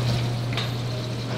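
Burger patties frying in a pan at a cookoff, a steady close sizzle with a faint clink partway through and no talking.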